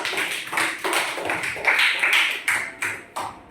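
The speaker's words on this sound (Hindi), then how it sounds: "ताली बजाओ भाई।" Students in a class clapping their hands together in a quick, loose burst of sharp taps, moderately close and fairly loud, with no talk over it.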